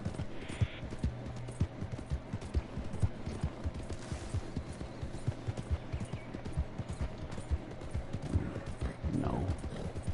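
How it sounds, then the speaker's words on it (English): Rapid clip-clop of a horse's hooves galloping in the Red Dead Online video game, steady and fairly close over a busy background, with a faint whinny late on. "Oh, a horse is running free."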